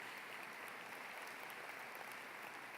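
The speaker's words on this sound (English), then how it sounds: "As she's walking to the podium, give her a round of applause, Ms. Kirsten Coombs" A crowd at a 2018 high school commencement applauds, a faint, even roar of many hands that holds steady without a break, distant and low in level.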